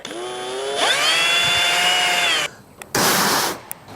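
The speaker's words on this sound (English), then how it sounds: "I'm almost gonna try and just drill a top layer off" A high, whining power drill bores into an ATV metal part, running steadily for a couple of seconds, then stops and briefly revs again, loud and close.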